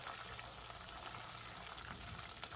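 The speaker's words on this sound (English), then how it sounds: "I'm going to add my 4 tablespoons of unsalted butter, and I'm going to let the butter melt." Unsalted butter melts into very hot caramel with a steady, dense sizzle that hisses evenly throughout at a low level with no voices.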